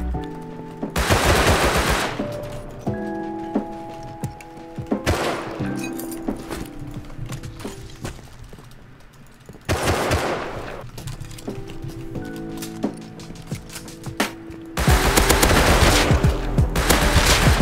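Loud automatic gunfire in the survival game Rust, with repeated long bursts and single heavy shots layered over a busy, echoing din of battle.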